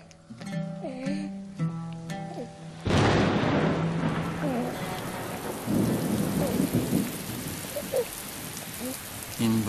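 Heavy rain and a thunderstorm: a sharp thunderclap bursts in partway through, followed by dense, steady rainfall with rumbling, after a stretch of tonal sounds at the start.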